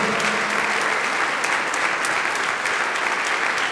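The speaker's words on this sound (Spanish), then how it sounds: "Aplauda al Señor." A church congregation breaks into steady, dense applause that fills the room at an even level throughout, with no voices standing out above the clapping.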